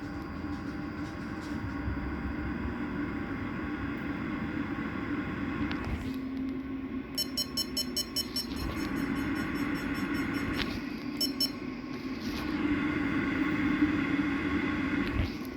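An AC fan driven by an ESP32 temperature and humidity controller ramps up in speed, giving a steady broadband whir and hum that rises and swells in level toward the end, heard close with no speech.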